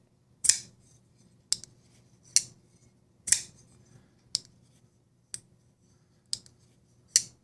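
Sharp metallic clicks, about eight of them, snap out one at a time at uneven intervals as a Koenig Mini Arius pocket knife blade is flicked open beside the microphone, against near silence, close up.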